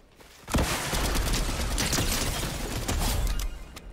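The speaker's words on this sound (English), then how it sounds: "Who's shooting here?" Dense, loud gunfire erupts in Fortnite after a quiet half second, a rapid overlapping barrage of shots and impacts that holds steady for about three seconds before easing off.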